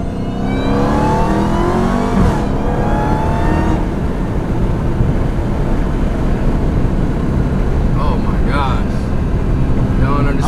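A Chrysler 300 Hellcat engine roars under hard acceleration, with rising revs that sweep up through the gears in a loud, close, sustained drone inside the cabin, and occupants talk over the engine.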